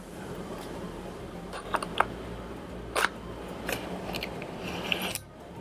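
A Canon EF lens clicks into place on a Fotasy EF to Micro Four Thirds adapter fitted to a Panasonic GH4 camera. A few short, sharp, close mechanical clicks stand out against a steady low background hiss.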